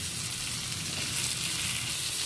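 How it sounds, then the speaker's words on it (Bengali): Potato pieces fry with softened onion in a pan, giving a steady, fairly loud sizzle with soft stirring scrapes underneath and no talking. "নেড়ে ছেড়ে আলুটাকে ভালো করে ভেজে নেব।"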